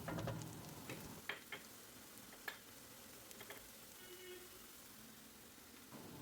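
Onions and garlic sizzle in a hot pan, with a few sharp clinks of a utensil stirring.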